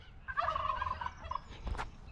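Poultry call on a small livestock farm where a new cockerel has just arrived, a single crowing-like phrase rising and falling for about a second, fairly close, followed by a brief thump.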